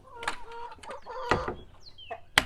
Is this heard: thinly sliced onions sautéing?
no